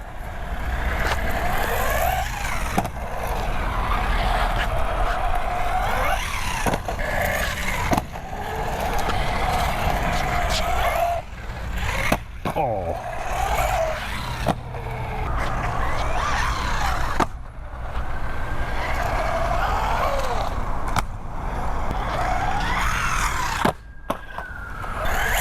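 A fast RC car drives around with a buzzy electric motor whine that rises and falls in repeated bursts as the throttle is blipped, with brief pauses and scuffing between runs, fairly close.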